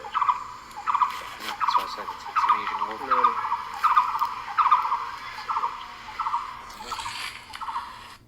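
An unfamiliar bird call played back from a recording: a series of repeated harsh, squealing notes in a steady rhythm, moderately loud against light background noise.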